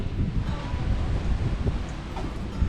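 Wind blows in gusts at an outdoor spot in Kazimierz Dolny on the Vistula, a constant low rumbling buffet against the microphone that swells and dips throughout.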